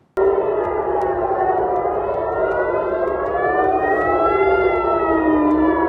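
Air raid warning sirens sounding in Israel during an Iranian missile attack, a loud sustained wailing tone that slowly rises and falls in pitch for several seconds, heard alone without talk.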